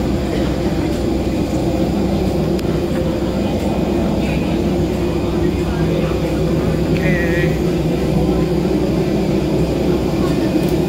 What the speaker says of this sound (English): Yep, it's a small plane.